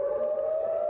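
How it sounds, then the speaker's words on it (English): A single sustained air raid siren wails steadily in Israel during the Israel–Hamas war, distant and unbroken, with no talking. "took this video from their balcony when sirens started ringing"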